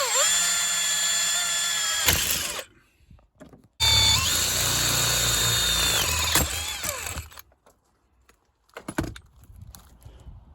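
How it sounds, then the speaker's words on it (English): A small power drill with a 3mm bit whines at high speed in two long bursts into a sit-on-top kayak, pitch dipping as it bites, followed by short clicks and handling noises. "So I'm just going to hit it with a small drill."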